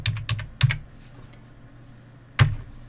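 A number typed on a computer keyboard in a few quick clicks, then a single firmer keystroke after a pause, close and clear against quiet background.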